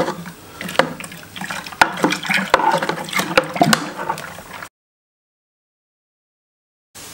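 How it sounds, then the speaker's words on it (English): A honey beer brew is stirred with the yeast in it, giving a close sloshing, splashing liquid sound with occasional knocks for several seconds before it cuts to silence. "So now we can sprinkle in the yeast. And give it a final stir."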